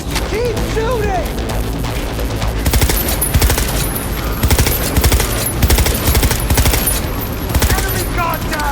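Sustained bursts of automatic gunfire and heavy weapon fire in the video game Cyberpunk 2077, loud and close, with rapid overlapping shots, crashes and explosions throughout and voices shouting under the din.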